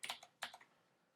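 Two quick bursts of computer keyboard typing as numbers are keyed in, each a short cluster of crisp clicks close to the mic, with a brief pause between and quiet afterward.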